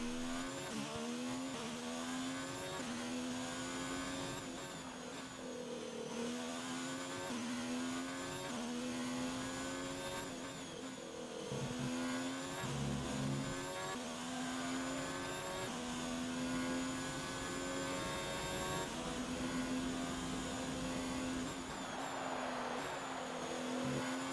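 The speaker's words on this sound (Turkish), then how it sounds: "En hızlı tur denemesinde motor sesiyle sizi baş başa bırakıyorum." F1 car engine in the video game F1 2019 on a fastest-lap attempt, a loud high-pitched whine rising steadily through the gears with quick downshift drops, continuous and close, no talk over it.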